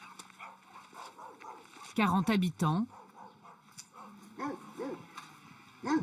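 Dogs bark in a small German village, a burst of several loud yelps in quick succession followed by scattered barks further on, heard beneath someone talking throughout.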